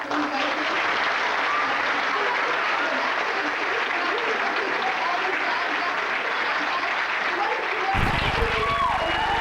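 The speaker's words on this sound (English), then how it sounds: "Just one more round of applause for you guys." A high school audience applauds after a performance of the musical Guys and Dolls, a loud, dense wash of clapping that holds steady throughout, with crowd noise underneath and a louder jolt near the end.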